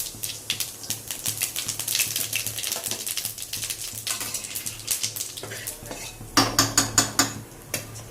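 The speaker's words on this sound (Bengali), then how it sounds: "এবার একটু তেল গরম হয়ে গেছে, একটু জিরে ফোড়ন দিয়ে দিলাম" Cumin seeds tempered in hot oil on a gas stove crackle and sizzle throughout, mixed with scraping and clinking of a utensil against the pan, with a louder burst of sputtering near the end.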